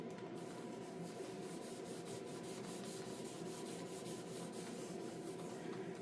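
Wet sanding paint and clear coat on a Farmall 450 tractor gives a steady, even rubbing and scrubbing that runs quietly and unbroken throughout, with no talk.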